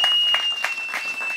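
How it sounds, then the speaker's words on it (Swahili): Congregation applauding at a funeral service for a pastor, a steady mid-level patter of many hands clapping throughout with no pause, fairly close and continuous. "Mpigie Yesu makofi mazuri"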